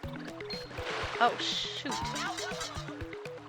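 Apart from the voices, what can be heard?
falling into water in video game Paper Mario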